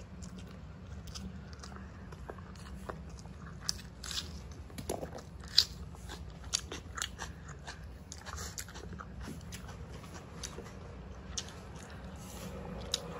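Someone bites and chews small fried fish alongside hot rice, producing faint close crunches and soft crackling bites scattered over a quiet background, with no talk.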